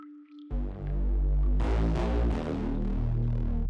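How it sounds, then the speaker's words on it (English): A droplet harp synth plays fifths above a bass line, the plucked tones layered over a dense, loud sustained mix that swells after a brief quiet opening and carries on steadily without talk. "I completely forgot to talk about this droplet harp"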